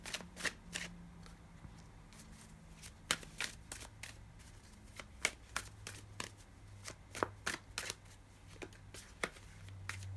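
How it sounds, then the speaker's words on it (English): A deck of cards is shuffled again and again, with crisp riffling bursts and soft taps in an uneven rhythm, close by. "Let me shuffle up this deck."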